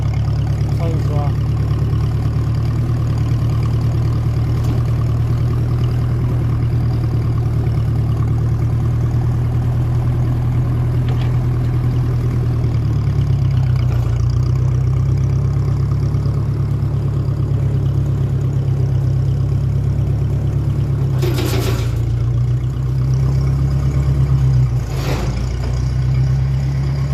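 A fully warmed Ferguson 35 tractor, running on TVO kerosene with its radiator blind fitted, idles steadily with a loud, deep, even chug that shifts slightly midway and carries on unbroken.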